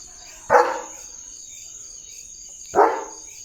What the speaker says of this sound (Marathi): कुणाला भुंकतोस